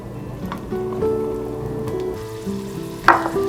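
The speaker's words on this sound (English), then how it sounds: "So I'll saute the garlic till it's golden brown." Garlic sautés in hot oil in a pan, giving a low, steady sizzle with faint stirring clatter and a brief sharper clink near the end; close and fairly loud.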